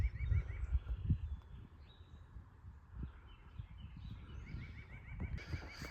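Birds chirp faintly in the distance on a sunny morning at a new homestead where a chicken coop is being built, thin repeated calls over low rustling and handling noise.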